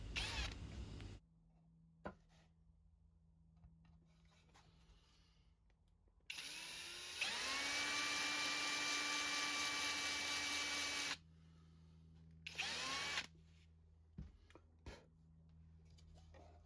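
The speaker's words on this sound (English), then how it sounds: "I can use the drill to widen that out to provide a snug but not tight fit on the brass rod." Power drill widening a pilot hole in a wooden keepsake box lid to fit a brass hinge rod, a loud sustained whine of several seconds with shorter bursts of drilling before and after, set against a quiet workshop hum.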